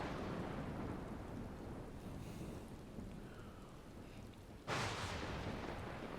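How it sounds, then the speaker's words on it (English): Steady rain with rolling thunder in the Final Fantasy XIV video game, a continuous dense wash of downpour that swells briefly near the end, with no voices. "Why is the rain dropping on the hair?"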